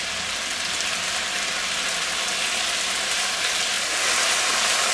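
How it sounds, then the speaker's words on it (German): Pork with beans and mushrooms fries over high heat in a wok on a grill, a loud, dense, continuous sizzle and crackle that holds steady throughout with no talking. "Da geht mir wieder Volldampf auf den Wok."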